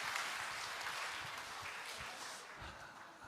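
Congregation applauding during a Sunday church service, a steady wash of clapping from a crowd in the hall that fades gradually, with faint voices beneath.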